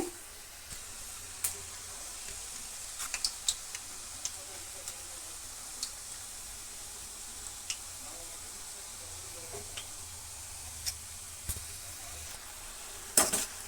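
Jackfruit chips fry in oil over a low flame, a steady soft sizzle and hiss with occasional small pops and crackles, close and continuous.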